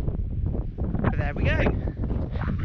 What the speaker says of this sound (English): Jolly windy at the moment